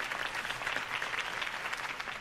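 A crowd claps steadily in Batman: The Telltale Series after a political campaign speech, a dense, sustained wash of applause from many hands with no voices over it.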